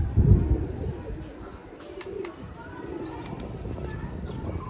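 Pigeons coo in a pigeon club loft, with a low, throaty coo up front and softer bird sounds after, close by, while someone talks over them.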